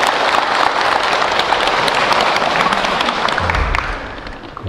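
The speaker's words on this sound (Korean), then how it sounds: "우리 환영의 박수를 한번 칠까요?" An audience at a Lotus Sutra lecture at Donghwasa temple in Daegu claps to welcome newcomers: dense, sustained applause from many hands that eases off near the end.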